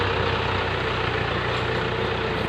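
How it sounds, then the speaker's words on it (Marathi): A tractor puddling mud in a flooded rice paddy gives off a steady, close diesel engine drone that holds an even level throughout, with no voices. "ट्रॅक्टरने गाळ करायला पसंत करतात"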